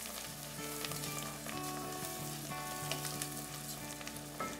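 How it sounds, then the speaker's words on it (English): Steady sizzling of rice frying in a hot pan, a continuous crackling hiss with occasional stirring clinks, fairly close and alone without talk. "And you can hear it sizzling."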